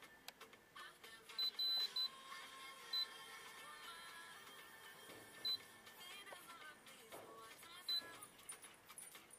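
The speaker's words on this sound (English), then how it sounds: "It's going to beep." Several short, high electronic beeps from an HKS EVC S boost controller sound at irregular intervals over a quiet background hiss, with brief muffled voices in between.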